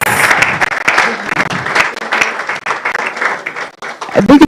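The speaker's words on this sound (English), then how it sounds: "Another clap for them." An audience at a graduation ceremony claps for the graduates, a loud, dense burst of applause that rises and dips in waves before picking up again at the end.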